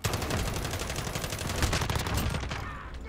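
Call of Duty: Modern Warfare gunfire in a Gunfight match, a rapid, dense burst of automatic shots close and loud for about two and a half seconds before easing off, with no talking.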